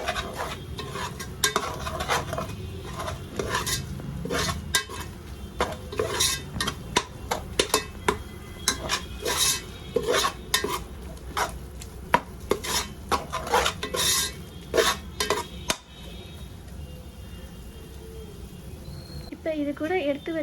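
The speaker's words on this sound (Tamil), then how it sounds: "இது எண்ணெயிலே போட்டு நல்லா வதக்குங்க சில்லி பவுடரை." Chili powder stir-fried in oil in a pan for a vegetable biryani, with a spatula scraping and clattering rhythmically against the metal over a steady close sizzle, then easing into a quieter sizzle near the end.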